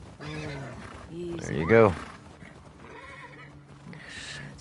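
A horse named Shimmer in the video game The Last of Us Part II gives a loud, shaky neigh midway, surrounded by soft snorts and clip-clop as someone talks briefly.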